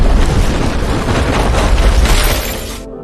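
A huge explosion in the Avatar: The Last Airbender film, heard as a loud, sustained broadband roar and rumble that rolls on for nearly three seconds before cutting off abruptly.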